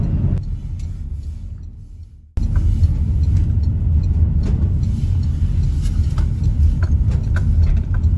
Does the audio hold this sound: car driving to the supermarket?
yes